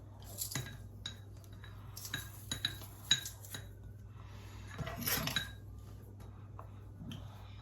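A spoon clinks and scrapes against a bowl while stirring oil and crushed garlic, with irregular taps and a brief burst of scraping, close and fairly quiet.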